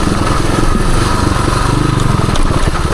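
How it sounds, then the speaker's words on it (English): A 1978 Suzuki DR370 trail motorcycle engine brakes downhill on a woods trail, a loud, close, throbbing single-cylinder note with steady pulsing and occasional crackles, no talking. "I'm just engine braking down this right now"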